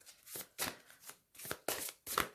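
Tarot cards being shuffled by hand in a quiet room, in several short, crisp riffling bursts separated by brief pauses, close and fairly soft.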